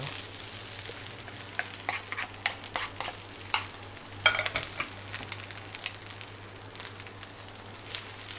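Jasmine rice fried with marinated pork, Chinese sausage and egg sizzles steadily in a pan, with repeated scraping and tossing strokes of the spatula rising above the hiss at an uneven rhythm, close and clear, with no voices.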